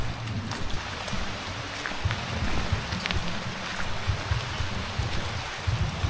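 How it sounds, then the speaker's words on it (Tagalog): Heavy rain at a riverside and seaside campsite, a dense, steady hiss of falling water with low rumbling underneath, continuous and fairly quiet throughout with no talking. "napakalakas ng ulan"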